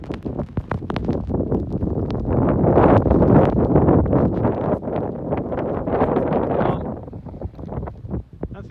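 Strong blizzard wind in Winnipeg roars and buffets the microphone, a loud, sustained gusty rush that swells in the middle and eases toward the end, with a few sharp crackles of wind noise.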